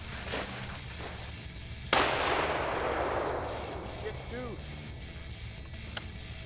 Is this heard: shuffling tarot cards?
no